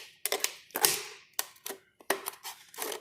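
Sharp crunching snips come in quick bursts as the bottom of a plastic bottle is cut off, several close, loud cuts separated by short pauses, no voices.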